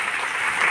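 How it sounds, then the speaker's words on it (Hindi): Enthusiastic applause at a Hindi poetry gathering (kavi sammelan), a brief burst of many hands clapping together in a dense, even wash with no voices over it. "सारथी परिवार के लिए जोरदार तालियां आप बजा दें।"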